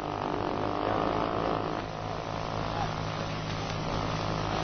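A propeller airplane from the 1930s to 1960s comes in to land, its steady engine drone and hum continuous and fairly loud throughout.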